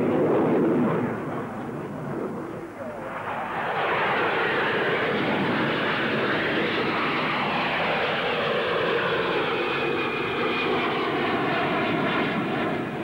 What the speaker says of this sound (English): the P-1127, powered by a vector thrust turbofan engine, shows its faces with a neighborly Hunter